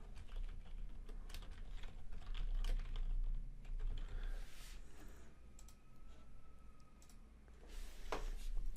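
Typing on a computer keyboard while setting up a website on Wix, a dense run of quick, close key clicks with brief pauses and uneven bursts, heard alone without talk.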